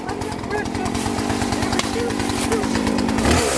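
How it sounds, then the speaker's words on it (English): A chainsaw runs steadily near trees, a loud buzzing motor with rapid pulsing chatter, close by throughout. "Chainsaw."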